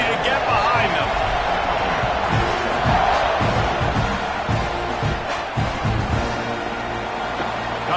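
A big football stadium crowd roars steadily at kickoff of an Aggies versus Oklahoma game, a dense sustained wall of noise with thumps and shouts running through it and commentary voices beneath.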